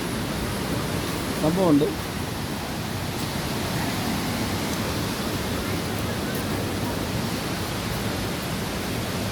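The Palaruvi waterfall roars in a steady, dense wash of rushing water, close and unbroken over rocky ground. A voice speaks briefly near the start.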